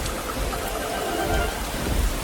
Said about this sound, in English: It starts to rain, and Peppa and George watch the drops